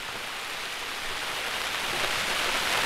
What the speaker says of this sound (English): I don't like rainy tarp weather